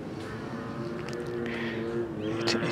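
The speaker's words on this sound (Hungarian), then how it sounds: "Itt már hallani a motorcsónakokat, nem messze van a Chao Phraya folyó." Motorboats near the Chao Phraya river in Bangkok, heard as a low, steady engine drone at a distance, fairly faint, with light wind noise and no talk.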